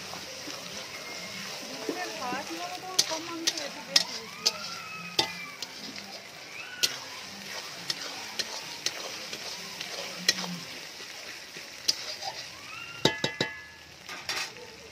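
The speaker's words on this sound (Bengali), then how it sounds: "এখানে এবার আদা আর রসুন বাটা দিয়ে বৌদি এটা ভালো করে কষে নেবে।" Ginger and garlic paste frying in a pan for biryani, a soft sizzle broken by sharp clicks and scraping stirs, with a voice talking faintly in the background.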